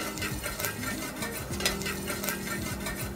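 Cumin seeds tempering in hot desi ghee, a continuous close crackling sizzle broken by the repeated scrape and clink of a spoon stirring in the pan, with no talking.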